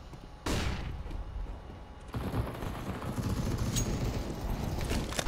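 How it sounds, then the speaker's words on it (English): Flashbang grenade in CS:GO bursting with a sharp, loud crack, followed by a dense stretch of gunfire and blast noise throughout the round. "Throwing flashbang."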